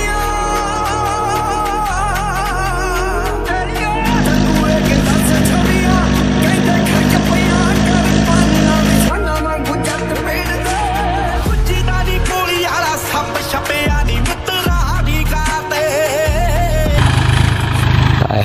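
A tractor pulling a cultivator through hard, dry field soil makes a loud, close engine drone that labours and shifts in pitch as it strains, with a rougher, uneven passage toward the end.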